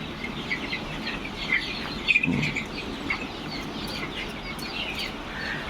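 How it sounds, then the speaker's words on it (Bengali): Chickens on a large poultry farm holding about five thousand birds, with dense overlapping clucks and calls forming a constant busy din and a few louder squawks rising above it. "এখানে প্রায় পাঁচ হাজারের মতন মুরগি আছে"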